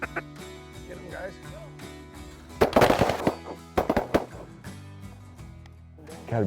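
Shotgun blasts ring out during a field and pothole duck hunt in Canada, a quick cluster of sharp, loud cracks fired in bursts by several hunters, with voices talking faintly before and between the shots.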